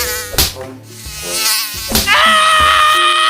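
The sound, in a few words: mosquito buzzing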